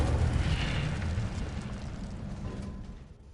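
An Incendio fire spell in Hogwarts Legacy bursts with a loud whooshing blast that rumbles low and then fades away over a few seconds, alone without talk.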